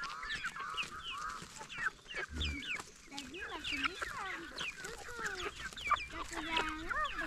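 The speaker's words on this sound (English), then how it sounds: "this is how we are feeding our chickens." Chickens cluck and squawk busily while being fed at a home flock. Many overlapping calls come close and fairly loud, with some faint background voices underneath.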